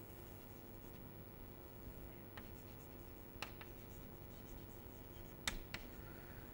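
A dotted line is drawn during a mathematics lecture, heard as faint, sparse scratching strokes of a pen on a writing surface, spaced a second or so apart over a low, steady room hum.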